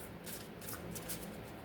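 Tarot cards being shuffled by hand, a steady, continuous papery riffling and rustling at close range that carries on without a break and with no talk over it.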